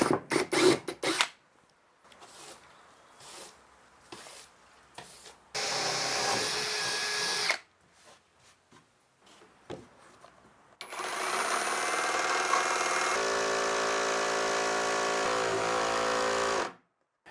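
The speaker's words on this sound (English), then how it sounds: "A few strategically placed holes will allow me to more comfortably use my jigsaw for the rough cut." A handheld jigsaw makes a rough cut for a sawhorse, two long loud bursts of buzzing, rattling cutting separated by quieter handling noises and tapping.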